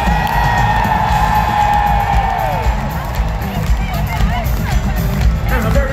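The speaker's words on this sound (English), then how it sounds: "stamp your feet, clap your hands, scream and shout" A large audience roars, whoops and claps in a loud sustained wave of cheering that fills the whole stretch, with steady foot-stamping rumble and crowd babble underneath.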